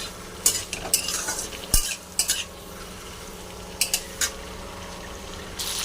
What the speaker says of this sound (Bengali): শিমলা লঙ্কাটাও দিয়ে দিলাম। এটাকেও হালকা করে ভেজে নেব।